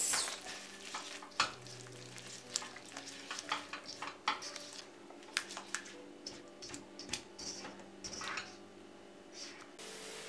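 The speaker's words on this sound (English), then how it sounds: "We will cook the onion tomato paste until we find that all the spices are well incorporated." Onion tomato paste with spices, including amchur green mango powder and black salt, frying in a kadai for kadai chole, with a steady low sizzle broken by frequent sharp scraping stir strokes, close by and without talk.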